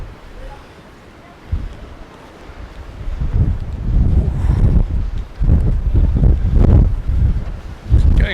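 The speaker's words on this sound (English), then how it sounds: "Getting this strong wind again, it really is blowing." Strong gusting wind on the seafront at Palmanova, Mallorca, roaring into the microphone in loud low rumbling surges that build and drop, with no talk over it.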